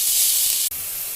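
Steady, bright sizzling hiss of mustard seeds spluttering in hot oil in a pan, briefly cut off near the end before resuming.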